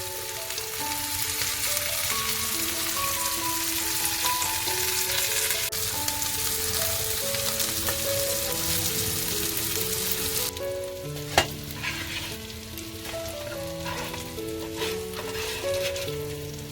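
Surmai (kingfish) frying in a pan, a constant loud sizzle with a few brief clicks, under background music.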